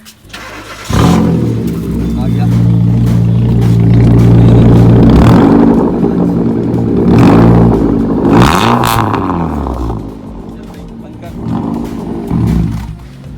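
An old Hyundai i20 with a straight-piped, side-mount exhaust fires up nearby and idles with a loud, raspy rumble, then revs up and down several times; people talk over the noise.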